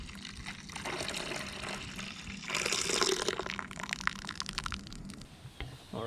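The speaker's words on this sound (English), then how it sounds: "Now the water coming through is nice and clean." Water rushes and gurgles steadily through an extractor machine shampooing a Mitsubishi car seat, a continuous wet hiss that swells briefly louder before settling again.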